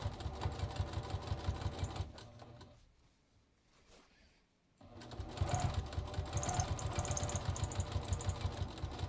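A sewing machine runs steadily, stitching a front fly zipper seam, with a rapid mechanical needle rhythm. It pauses briefly midway, then resumes at the same close, even pace.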